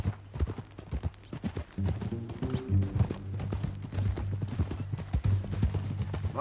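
Horse hooves clip-clop in an irregular walking rhythm in the Red Dead Redemption western game, close and clear, with a low tonal background hum and a brief whinny-like sound.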